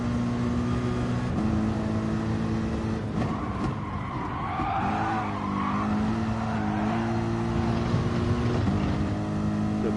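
Race car engine in a Gran Turismo-style Group 3 racing game at Brands Hatch, droning loud and steady with rising pitch and quick downshifts as it brakes, no voices over it.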